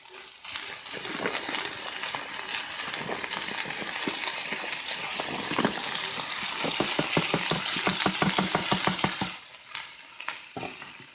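Korean BBQ beef and vegetables fry in a pan with a steady close sizzle, broken by rapid rhythmic stirring scrapes in the second half before the sizzle settles back alone.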